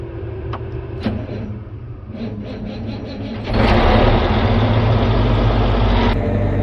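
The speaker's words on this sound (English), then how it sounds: "just fired up the Challenger 945C" A Challenger 945C tractor engine warms up at a farm bin site with a steady, low diesel rumble that swells noticeably louder partway through and then holds at the higher level.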